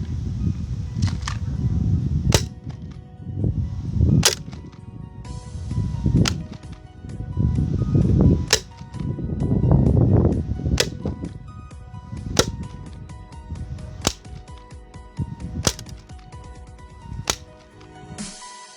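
Airsoft gun shots fired at goggles from five metres, a series of sharp, snapping impacts at irregular intervals with a few quicker bursts, loud and close over a muffled rumbling background, with no talking.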